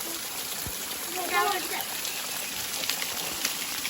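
Constant rushing water of a waterfall fills the background, with a brief voice partway through.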